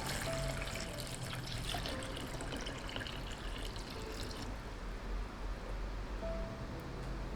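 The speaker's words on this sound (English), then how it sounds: "So we'll just add this to my bowl and fill it up with 10 liters of water." Water runs steadily into a cooking bowl being filled with about ten liters, a soft continuous trickle and splash that stays faint and even throughout, with no talking.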